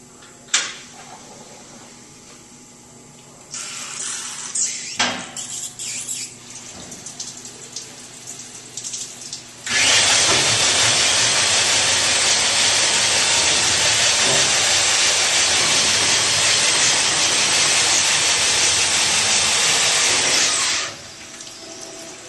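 An align hone machines the main bearing bores of an engine block, lubricated with honing oil, producing a loud, steady broadband whir and wash that starts abruptly, holds evenly for about eleven seconds, then stops, preceded by quieter handling clatter.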